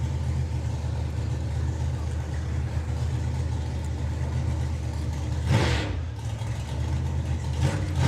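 Supercharged drag car at the Bug Jam VW festival, a loud steady engine drone throughout with a sharp rev burst near the end and another brief one after, no talk.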